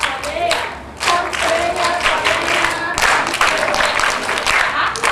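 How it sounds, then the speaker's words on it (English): A group claps along to a chanted call-and-response, with clustered bursts of hand claps that restart in waves, mixed with voices chanting. "We're going to clap like this"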